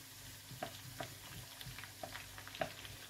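Julienned onion strips sizzling in a hot frying pan, a steady low crackle with a few sharper pops and stirring scrapes, faint and close.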